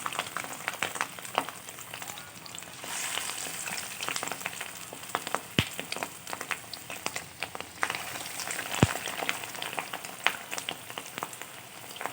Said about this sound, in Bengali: কড়াইতে তেল দিয়ে দিয়েছি তেলটা গরম হলে আমি বড়াগুলো ভাজব